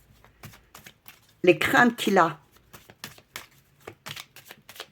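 Tarot cards are shuffled and laid out in a brief, dense riffling burst of about a second, with a French-speaking voice talking before and after.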